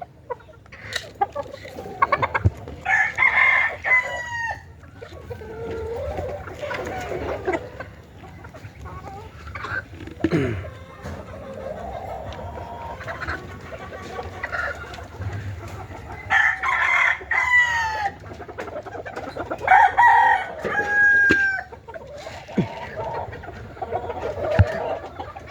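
Chickens cluck and squawk nearby while a rooster crows now and then, with soft farmyard background noise throughout.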